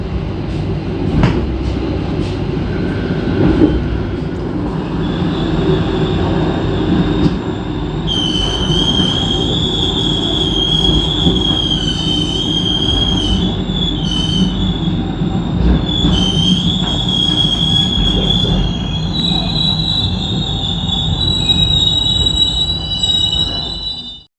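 The Pangrango passenger train pulls into Cisaat station with a loud, steady rumble of rolling wagons and a sustained high wheel squeal across most of the passage.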